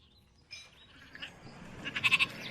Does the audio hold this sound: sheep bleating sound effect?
yes